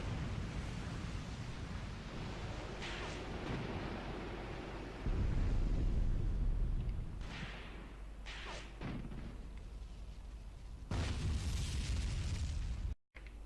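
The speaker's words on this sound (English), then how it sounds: "Ah, that's my mortars." Mortar shells exploding in the war game Graviteam Tactics: several deep, rumbling booms and bursts at varying distances over a constant low battlefield rumble, with one louder, sustained blast partway through and no talking.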